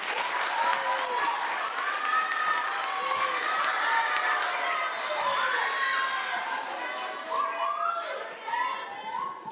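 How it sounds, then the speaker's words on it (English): An audience at a middle school band, choir and orchestra concert applauds and cheers for a seventh-grade narrator. The clapping is dense and lively, with children shouting and whooping over it, and it thins out toward the end. "So let's give her a round of applause."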